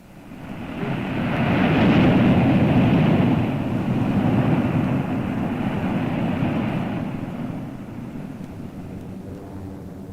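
Propeller-driven American and Australian bomber aircraft fly over Borneo in a 1945 wartime film, a steady broad engine drone that swells in the first seconds and holds, then eases slightly as it passes.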